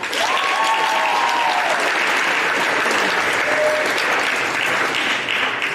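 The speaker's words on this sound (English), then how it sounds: "can we give these lovely ladies and gentlemen a big hand?" Sustained applause from an audience for a school football cheer squad, steady clapping filling the whole stretch with a faint crowd murmur and a brief whistle early on.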